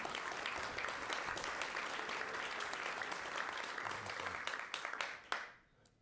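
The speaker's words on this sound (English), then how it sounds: "Please give a warm applause to Maurits Rijk." Sustained audience applause at a JavaScript developer meetup's winter party, a dense steady wash of many hands clapping for about five seconds before cutting off sharply near the end.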